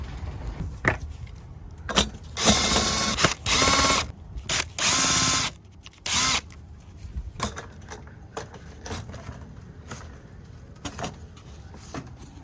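A power ratchet removes three 10 mm bolts on a 2015 Nissan Altima 2.5L four-cylinder, with several loud, close whirring bursts of the tool followed by quieter clicks and handling noises.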